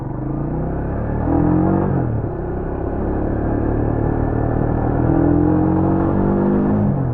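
A Rusi Classic 250 motorcycle engine runs close by with a steady, deep rumble, swelling slightly twice as it revs, with no talking over it.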